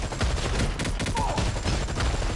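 Rapid gunfire in the Marvel Heroes Omega video game, a dense, loud fusillade of overlapping shots crackling steadily without pause.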